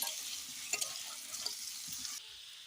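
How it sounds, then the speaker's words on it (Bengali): Potatoes fry in a pan with a little turmeric, giving a steady broadband sizzle with a few brief stirring scrapes, fairly close, with no talk. "এখানে ভালো করে আলুটা ভাজা হয়ে গেছে, তো অল্প হলুদ দিয়েছি যাতে আলুর কালারটা ভালো আসে"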